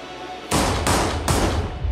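Three loud, sharp gunshots in an action film scene, evenly spaced about a second apart, each blast with a brief ringing tail, standing alone with no talk.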